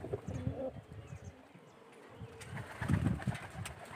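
Racing pigeons kept for the flying season coo near and far around an outdoor loft, mixed with faint wing flaps and soft background voices, louder toward the end.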